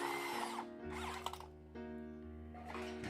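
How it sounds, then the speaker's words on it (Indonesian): Power drill boring into a light steel canopy post during installation, the motor whining steadily with shifting pitch and a brief dip midway, close and loud with no talk. "Kita bor ya di bagian dalam seperti ini ya"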